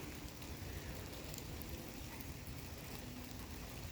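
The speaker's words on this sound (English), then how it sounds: "I'm getting out of the rain." Steady rain falls in a video game, a constant, even hiss of drops with no breaks, fairly loud and heard alone with no talking.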